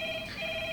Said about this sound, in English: Someone pick up that fucking phone.